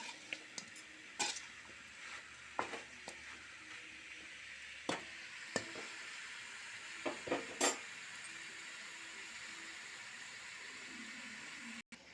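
Chicken pieces fry in a pan under a soft continuous sizzle, with scattered clinks and scrapes of a utensil stirring them, fairly quiet and close.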